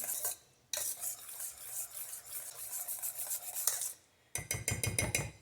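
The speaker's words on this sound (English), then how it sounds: "You just want to whisk that in until it gets all mixed in." A whisk scrapes and stirs butter into a pot of homemade vanilla pudding, a steady rapid swishing against the pan broken by two brief pauses, then quick rhythmic strokes at the end.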